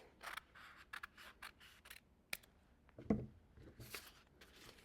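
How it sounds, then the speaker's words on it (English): Scissors snip through paper along a folded edge while making a paper lollipop flower, a handful of quiet, separate cuts with small rustles between them, close up and without talk. "So I'm going to cut along this edge here."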